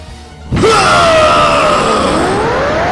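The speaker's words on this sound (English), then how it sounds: "with a roar that has now become unlike Gohan, he screams loud, powering up" Gohan lets out a loud, sustained screaming roar while powering up in an anime, bursting in suddenly after a quiet lead-in and holding strong and strained to the end.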